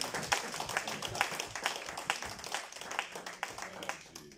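A church congregation claps and applauds after a French-language sermon, a dense, steady patter of many hands close by, with a few voices and faint murmuring mixed in.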